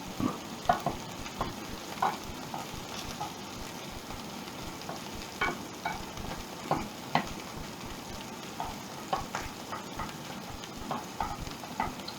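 Lamb and coriander meatballs fry gently in a pan, a soft, steady sizzle broken by light ticks and the occasional clack as they are turned, close and without talk.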